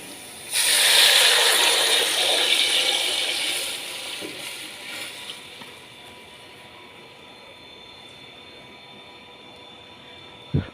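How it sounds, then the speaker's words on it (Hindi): Prepared chicken stock (yakhni) poured into a pot of garlic-scented mandi rice, a loud rushing hiss and splash for about three seconds that fades to a quieter sizzle and bubbling. "अब इस पोजीशन में ऐड कर देंगे तैयार की हुई यखनी"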